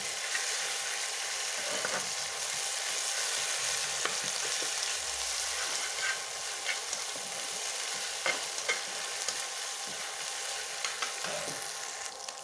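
Chili, cumin and garlic paste fries in a pan, a steady close sizzle with scraping stir strokes throughout, no voices.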